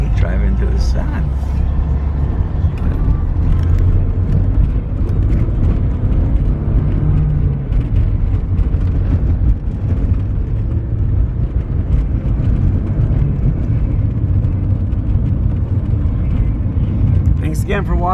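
A 1987 Porsche 944S cruises around a block, its steady engine and road rumble continuous and close throughout, with wind buffeting the microphone and a person talking over it.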